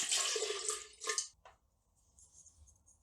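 Water pours in a short, close splashing stream into a blender holding coconut milk, then trickles and stops, followed by a few faint drips and light rattles.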